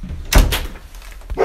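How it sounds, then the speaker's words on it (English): A door being closed indoors on a winter day, giving a heavy thud with a second knock just after and a softer clunk near the end, close by with no talk. "Close the door."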